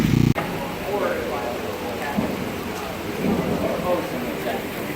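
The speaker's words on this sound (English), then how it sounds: "When it's raining like this, it's thundering and lightning." Heavy mountain rain pours steadily with rolling thunder, a dense, loud wash of downpour that continues without a break after a brief sharp onset.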